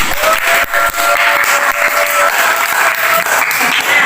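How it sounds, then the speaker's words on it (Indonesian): A school class of 12 TKJ 2 students applauds together in a classroom, a dense, steady wash of clapping filling the whole moment, loud and continuous without pause. "Oke, tepuk tangan."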